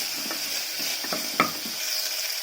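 A chutney mixture being stirred and fried in a pan, with a steady close sizzle and a few soft scrapes and taps of the spoon against the pan, and no speech.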